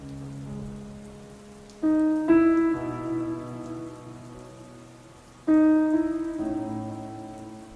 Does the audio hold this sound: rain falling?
yes